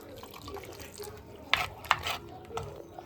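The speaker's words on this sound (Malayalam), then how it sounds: "നമുക്കിനി വെള്ളം ഒഴിച്ച് കുറച്ച് ലൂസാക്കി എടുക്കാം." Water is poured into a simmering fish curry masala of ground paste and curry leaves to loosen it, with splashy liquid bursts and a couple of sharper spatters over a low background.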